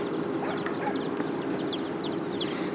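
Many small chicks chirp constantly in a busy, overlapping chorus of high peeps, close by and steady throughout.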